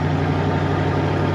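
A light aircraft engine idles steadily with a low, constant rumble and hum, close and continuous throughout.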